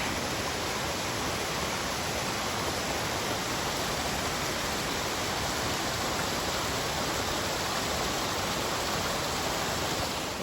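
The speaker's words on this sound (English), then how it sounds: "Look at this gorgeous waterfall." A large waterfall tumbles down on the Annapurna Base Camp trek in Nepal, a loud, dense, unbroken roar of falling water filling the whole stretch with no voices.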